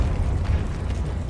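A Confringo fire spell bursts in Hogwarts Legacy, a dense low rumbling blast that rolls steadily through the whole moment with no clear gaps.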